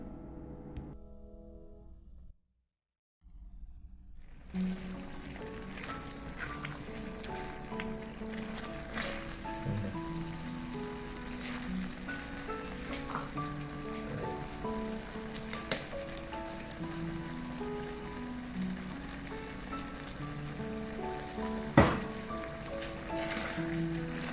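Beef in Balinese spice sauce simmering down in a pan, giving a soft continuous bubbling sizzle with scattered small pops and a short silent gap near the start.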